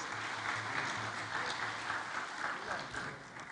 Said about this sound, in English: Can we give Honorable Chishimba Kambwili another round of applause?